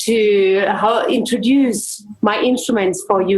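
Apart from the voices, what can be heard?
No everyday noises stand out.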